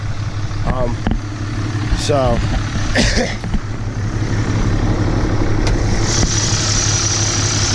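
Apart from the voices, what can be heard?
Cummins diesel race truck engine idling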